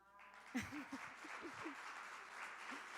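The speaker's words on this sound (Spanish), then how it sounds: "se los voy a pedir, me den un aplauso" Applause at a church women's gathering: a soft, sustained spread of many hands clapping, fairly faint and distant, with a voice briefly heard at the start.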